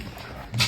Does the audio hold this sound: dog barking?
yes